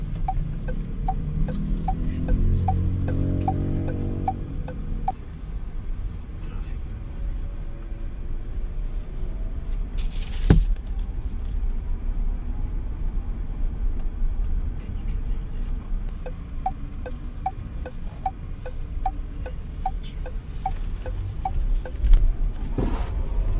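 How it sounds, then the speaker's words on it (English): Power folding side mirrors on a 2025 JAECOO EJ6 whir electrically inside the cabin, a low motor hum lasting a few seconds and fading into the steady road and engine drone, with a faint click partway through. "Your power folding side mirrors."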